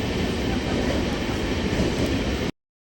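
A Mumbai suburban local train from Karjat runs along, heard from inside the carriage as a steady loud rumble with light rhythmic wheel clatter, continuing unbroken until the sound cuts off abruptly.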